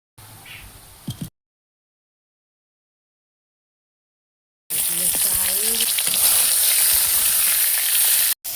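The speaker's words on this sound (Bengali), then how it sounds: "ডাল নামিয়ে মাছের মাথা ভেজে দিও" A fish head fries in oil in a pan. After a short stretch of quiet, a loud, steady, close sizzle hisses continuously for about four seconds.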